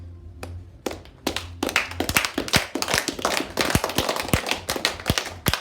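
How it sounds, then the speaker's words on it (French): Children clap their hands together in an uneven, building burst of sharp individual claps, starting sparse and quickly thickening into a lively round of applause. "je demande à les enfants d'applaudir."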